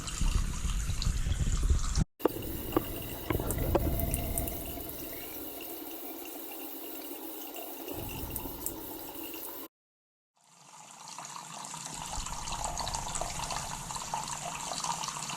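Hot water running steadily from a faucet during a Watts recirculation pump test, a broad continuous hiss with a brief cut near the start and a short silent gap before the flow resumes.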